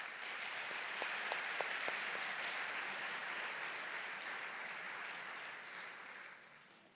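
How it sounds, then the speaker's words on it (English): Sustained audience applause at a university graduation ceremony for Economic and Management Sciences, a dense steady wash of many hands clapping that holds evenly for several seconds before fading out at the end. "Please help me in giving them a warm round of applause."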